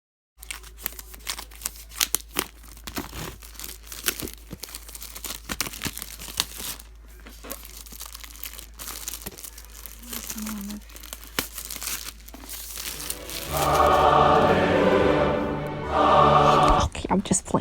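Packaging for an iPad Pro and Apple Pencil being crinkled and torn open, with sharp rustling and crackling plastic and paper close up, building into dense, loud crinkling toward the end.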